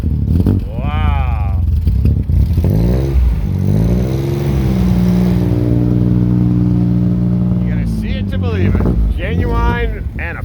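A restored Chevrolet Corvair with a 4-speed manual, shown at a Corvair car show, revs loudly up close, its engine note climbing and falling in repeated sweeps over a constant roar.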